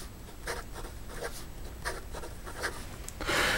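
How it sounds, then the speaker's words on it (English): A Totoro fountain pen scratches quickly across paper in a run of short, soft strokes, close up and quiet, ending in a slightly louder rub. "let's see how it does in regard to some fast writing."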